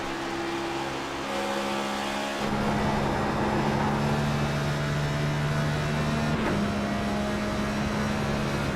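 Race car at Darlington shifting down and coasting, a steady droning engine tone that drops in pitch with a brief shift change, heard continuously over a dense crowd and track ambience.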